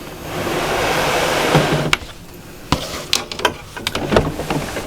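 A sewing machine stitching fabric for a Christmas gnome cushion: a steady mechanical whir for about two seconds, then stopping, followed by a scatter of sharp clicks and small handling knocks nearby.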